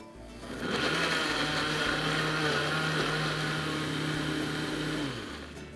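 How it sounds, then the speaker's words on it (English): A blender pureeing chili sauce with chicken broth runs steadily for about five seconds, a loud continuous motor whir with a buzzing drone, spinning down near the end. "Last ingredient little bit of chicken broth, homemade of course, into the blender. We're gonna buzz this up till it's nice and smooth."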